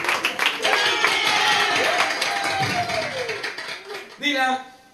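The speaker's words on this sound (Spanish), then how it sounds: "¡Fuerte el aplauso!" Celebration crowd claps together in a dense, steady wash of applause that runs most of the way, with voices and cheering mixed in and a brief louder burst near the end.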